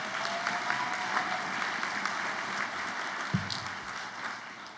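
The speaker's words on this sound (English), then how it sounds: "Give yourselves a round of applause" Distant crowd applause at a 2017 high school graduation ceremony, a steady soft wash of clapping from a large audience heard from afar, with a brief low thump partway through.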